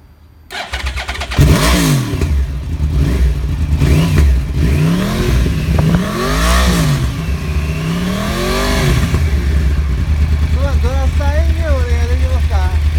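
A Yamaha Drag Star 1100 motorcycle engine starts up close by and revs repeatedly, rising and falling in loud bursts before settling into a rough idle, with voices briefly heard.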